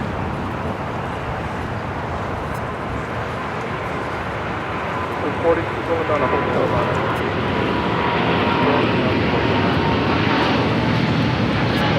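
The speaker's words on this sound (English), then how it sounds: "This is Air France Flight 23 taking off to Paris, Charles de Gaulle on a 777-300ER" An Air France Boeing 777-300ER jet takes off at Los Angeles airport, a broad, steady engine roar that swells gradually and holds loud through the end, with no talk over it.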